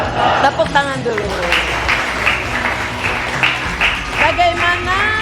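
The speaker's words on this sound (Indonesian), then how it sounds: "Tepuk tangan dulu." Students at a school activity clap their hands in a short, ragged burst of applause, with scattered talk and chuckling over the clapping throughout.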